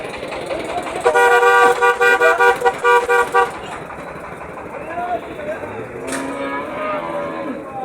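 At a busy cattle market in Joypurhat, a cow gives a long, loud moo nearby, and a vehicle horn toots over it. A fainter low moo follows, with crowd chatter and engine noise in the background.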